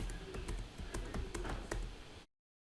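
Typing on a computer keyboard during a PostgreSQL install on Fedora 41, with a quick run of close, crisp key taps at a steady pace, then silence.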